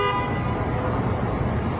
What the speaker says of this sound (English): they were caught up beeping at each other in San Francisco